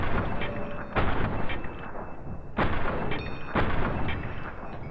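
Gunfire from VATS combat in Fallout New Vegas, hardcore mode, fighting alongside Boone: three heavy, booming shot impacts at roughly one-second intervals, each with a broad rumbling tail over continuous game ambience.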